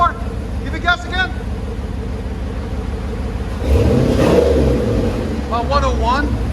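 Car fitted with a Gagliardi Design Vendetta exhaust and LS4 engine, idling and then revving up in a loud, rising burst midway, with someone talking before and after.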